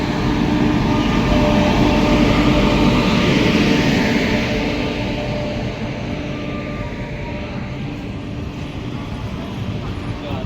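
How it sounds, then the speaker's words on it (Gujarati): A train rumbles in with a loud, broad roar that swells over the first few seconds and then eases off as it slows, while voices chatter nearby. "ટ્રેન આવી ગઈ"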